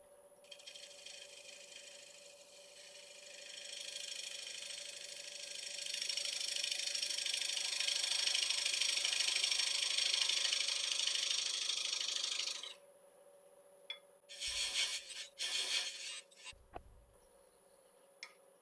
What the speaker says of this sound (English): So again, little diamond parting tool.